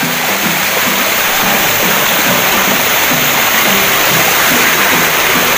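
Hidden Falls in Barangay Nazareth, Buruanga, Aklan, a loud, close, unbroken roar of falling water, a steady broadband rush with no pauses.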